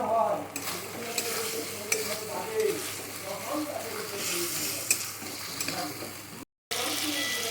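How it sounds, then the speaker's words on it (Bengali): Paneer stirred and fried in a pan, with a dense sizzle and repeated scraping and clattering of the spoon, broken by a brief total silence near the end. "পনির দিয়ে ভালো করে নাড়াচাড়া করে নেব"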